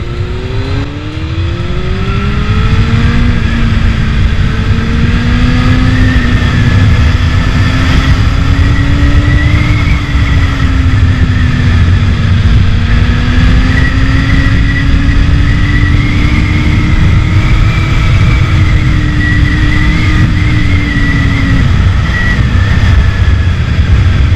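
A Honda Hornet 600 (CB600) motorcycle engine accelerates hard in second gear. It is loud and close and runs continuously, its rising tone climbing, levelling, then climbing again as the throttle opens wider.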